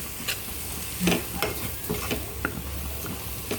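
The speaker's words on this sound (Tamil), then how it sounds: "எல்லாத்தையும் பச்சை வாடை போகிற வரைக்கும் கொஞ்சம் வதக்கிக்கலாம் நம்ம." Prawn thokku ingredients sautéed in a pan, a steady sizzle of frying with repeated scraping stirs of a spoon against the pan, close and continuous with no voices.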